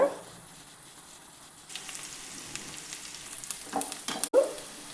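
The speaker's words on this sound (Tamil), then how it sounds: "வெங்காயத்து கூட பாசிப்பருப்பு உளுந்து சேர்த்துட்டோங்க இதையும் நல்லா வத வதக்கி எடுத்துக்கோங்க" Onions sautéing in a pan with moong dal and urad dal give a low, steady sizzle, with stirring scrapes and clinks growing busier toward the end and no voices.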